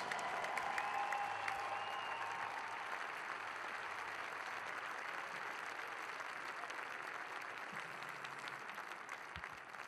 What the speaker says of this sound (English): a final round of applause for your 2019 Syracuse Women's Senior Basketball Class.